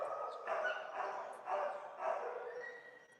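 Dogs barking at an animal shelter, four or five muffled barks in an uneven rhythm, heard at a distance and fairly faint under a murky background.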